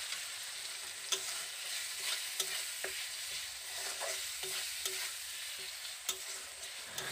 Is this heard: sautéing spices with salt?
yes